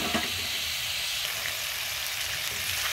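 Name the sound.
garlic and onions sautéing in pork fat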